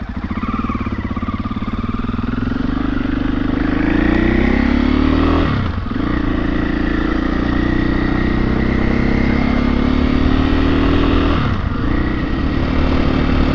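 A 2021 KTM 500 EXC-F dirt bike engine drones steadily and loud while being ridden, with two short dips in revs before it picks back up.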